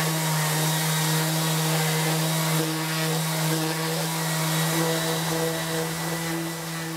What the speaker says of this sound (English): So I'm gonna start to sand this now so I can get this down level with my maple.